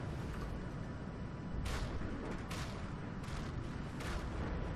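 Naval guns firing in the vehicle combat game From The Depths, a dense, continuous rumble of distant booms with several sharper blasts standing out over steady battle noise.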